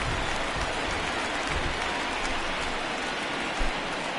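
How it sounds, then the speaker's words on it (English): A home baseball crowd applauds steadily as pitcher Adam Wainwright leaves the game, a dense, even wash of clapping and cheering heard from within the stands throughout. "this home crowd likely to give him a standing O as he departs with the shutout in check"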